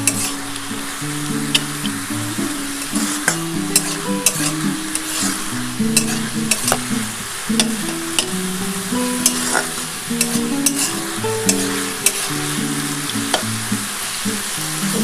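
Lentil dumplings (bori) stirred into helencha greens in a pan, with a steady close sizzle and repeated sharp scraping clicks of a spatula, under an odd low tonal hum throughout.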